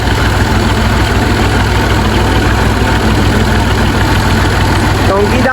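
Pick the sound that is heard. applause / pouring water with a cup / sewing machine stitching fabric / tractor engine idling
tractor engine idling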